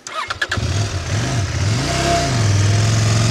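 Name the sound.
enduro motorcycle rolling backwards downhill using engine brake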